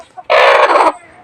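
A large backyard rooster lets out a single loud, close crow lasting over half a second, rising abruptly from quiet surroundings with faint clucking before it and soft background after.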